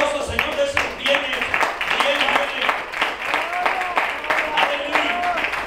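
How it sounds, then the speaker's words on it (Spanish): A church congregation applauds during a sermon, with rhythmic clapping running beneath raised voices and exclamations for the full length. "Se le va a dar un aplauso al Señor"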